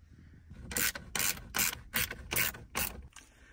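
A ratchet removing two screws from a dashboard cover on a 2015-2020 Ford F150 makes six rhythmic, evenly spaced bursts of close clicking, each about a third of a second long, with no talking.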